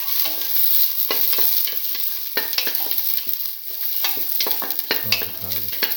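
Garlic and shallots frying in a pan for a red lentil and bottle gourd stew, a steady loud sizzle broken by repeated scraping stirs, with no talk.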